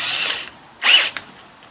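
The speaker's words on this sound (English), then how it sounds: "put it in your drill" A power drill spins a round chainsaw sharpening file in short bursts, a high whine starting and stopping two or three times with quiet gaps between, close by and with no talk.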